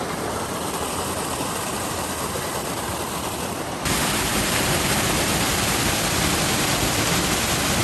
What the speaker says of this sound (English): So crossing Virginia Creek again.